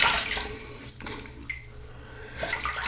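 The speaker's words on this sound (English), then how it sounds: "let me rinse off" Water running steadily from a sink faucet while someone rinses off after shaving, a continuous close splashing hiss that dips briefly mid-way and swells again, no voices.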